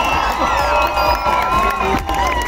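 A lively crowd at the Usaquén Gospel Fest 2022 cheers, whoops and shouts over steady applause, loud and close, with excited voices and children's cries mixed into the din.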